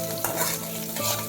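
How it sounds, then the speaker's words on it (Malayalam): Shallots, chilli and coriander leaves sautéing in a pan, a steady close sizzle with stirring scrapes throughout. "അത് നല്ലതായിട്ടൊന്ന് നന്നായിട്ട് വഴറ്റുകയാണ് ഞാൻ."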